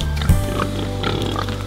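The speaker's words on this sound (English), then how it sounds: "So many pigs" Pigs oink and grunt close by, low and loud, in a short, continuous stretch with a sharper squeal-like burst near the start.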